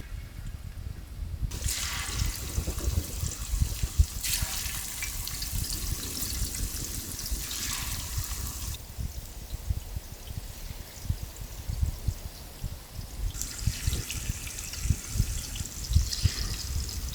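Sesame oil is poured into a cooking pan, a continuous close trickle and gurgle with brighter splashing surges coming and going throughout.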